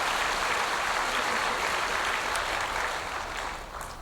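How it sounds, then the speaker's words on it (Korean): A church congregation applauding during a sermon service, a steady dense wash of clapping that holds evenly and then thins slightly toward the end. "박수해 줘야 돼요."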